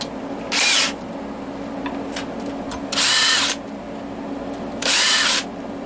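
A power drill fitted with a countersink bit cuts into wood in three short, loud bursts of high whirring, separated by pauses filled with a low background hum and a few faint clicks.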